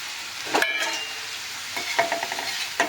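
Fenugreek thecha sautéing in oil with lemon juice, a Maharashtrian chutney in a pan: a constant close sizzle broken by a few sharp spatula scrapes and stirring knocks, no speech.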